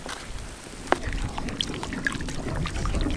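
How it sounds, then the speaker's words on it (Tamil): A 400 g tin of Milkmaid condensed milk poured into biscuit halwa cooking on the stove, a thick, steady, low pour with faint splashes, close by and with no talking. "இப்போ மில்க் மேட் 400 கிராம் சின்ன டப்பாவை அப்படியே ஃபுல்லாக ஊற்றிக்கலாம்."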